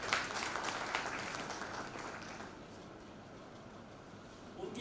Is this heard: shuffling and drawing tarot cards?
no